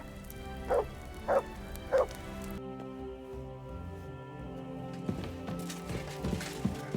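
Mutt, a dog in the video game Kingdom Come Deliverance II, gives three evenly spaced barks up close, followed by a quieter stretch of game ambience with soft taps and thuds.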